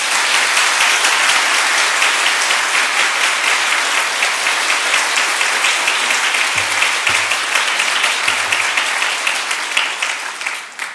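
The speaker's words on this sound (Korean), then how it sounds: "힘차게 격려의 박수로 맞이하겠습니다" Loud, sustained applause from a church congregation welcoming a guest speaker, dense and even for the whole stretch before easing slightly at the end.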